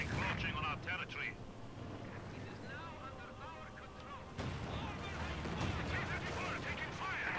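Company of Heroes 2 battle with gunfire and artillery in the background, bursts and booms continuing beneath nearly constant excited talk, with a louder stretch of explosions in the second half.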